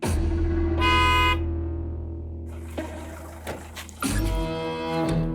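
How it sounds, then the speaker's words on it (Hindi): Car horn blares repeatedly in a busy street, with a long loud honk followed by another burst of honking. "ये क्या हॉर्न बजा रहा बार बार?"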